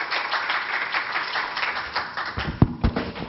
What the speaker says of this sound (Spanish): Le damos un fuerte aplauso a Yulisa Mantilla